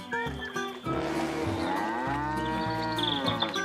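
A cow moos loudly and at length, a long drawn-out low call that rises and falls, with no talking.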